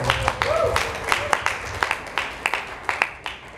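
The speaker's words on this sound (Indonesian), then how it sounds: "Tepuk tanganlah untuk" At a Quran recitation competition announcement, a small audience claps for the winners, with sparse, distinct hand claps at an uneven rhythm, some loud and close, over low murmur and a brief tonal sound.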